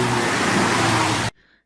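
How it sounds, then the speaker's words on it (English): Busy highway traffic ambience, a dense steady roar of many vehicles that plays loud and unbroken, then cuts off abruptly to near silence. "busy highway"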